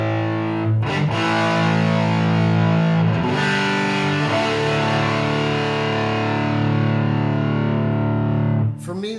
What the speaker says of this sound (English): there's just a little bit too much fizz with the orange distortion